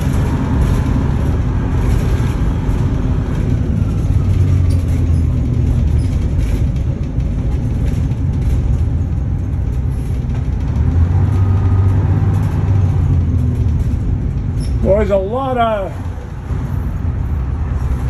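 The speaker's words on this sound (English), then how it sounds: "almost none of them sounds as good as this bus unless somebody builds an engine for it" A 1980 Crown bus engine running while the bus drives, a steady low rumble under someone talking throughout, with a brief squealing sound near the end.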